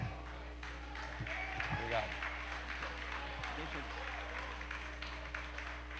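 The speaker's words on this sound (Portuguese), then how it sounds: "Aplauda o nome de Jesus." A church congregation at a couples' meeting applauds, with scattered, fairly quiet clapping running throughout while voices talk over it in the room.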